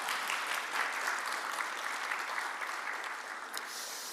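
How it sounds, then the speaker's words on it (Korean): A church congregation applauds children finishing their department at an intergenerational worship service, dense steady clapping from many hands filling the room at an even level throughout. "다시 한번 우리 아이들에게 큰 박수 부탁드리겠습니다"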